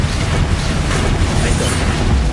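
A loud, dense burst of blasting noise from the Confringo fire spell in the video game Hogwarts Legacy, a continuous roaring explosion with crackle and rumble filling the moment.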